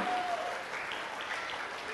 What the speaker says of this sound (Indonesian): Mari kita tepuk tangan buat mereka, luar biasa.